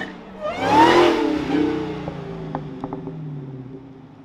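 A Ford GT500 revs hard while sliding sideways on a city street, the engine note climbing to a loud, roaring peak and then fading into a lower rumble, with faint knocks and clatter.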